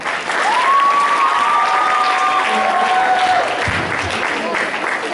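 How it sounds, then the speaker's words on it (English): Pageant audience at the Sir Jaguar Pageant breaks into loud, sustained applause with cheering and a high whoop riding over the dense clapping, steady throughout. "Let's give him another round of applause."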